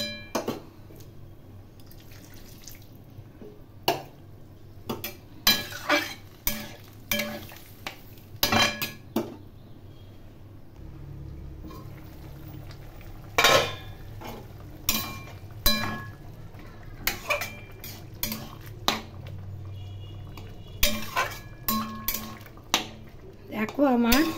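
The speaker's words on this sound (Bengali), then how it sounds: "মিডিয়াম ফ্লেমে রান্না করে এই আলু এবং ফুলকপি সেদ্ধ করে নেব।" Potatoes and cauliflower simmer in water in a covered pot on a medium flame, with scattered clinks of lid and utensils against metal, soft bubbling and dripping, and faint voices in the background.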